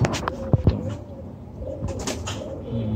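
Giribaz high-flyer pigeons cooing in a loft: soft, repeated throaty coos with a few sharper wing or movement sounds near the start, close by, over a steady hum of other birds.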